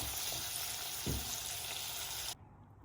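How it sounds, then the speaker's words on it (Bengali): Shrimp sautéing in a pan for a curry, a steady close sizzle with one soft stir or scrape midway, then the sound cuts off abruptly near the end. "চিংড়ি মাছ দিয়ে এগুলো এখন সুন্দর করে একটু কষাবো"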